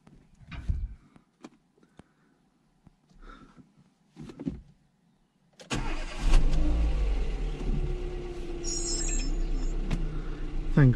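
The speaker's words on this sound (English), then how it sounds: "Let's see if the car starts." After a battery charge from a bench power supply, a car is started. A few clicks and quiet handling sounds come first, then the engine cranks, catches and settles into a loud, steady idle close by.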